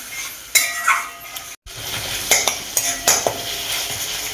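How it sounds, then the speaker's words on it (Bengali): Spice paste for a tomato bhetki fish curry being sautéed in a pan, with repeated stirring scrapes and utensil clinks over a low sizzle, close and moderately loud, with a brief silent gap midway. "মশলাটা কষানো হবে।"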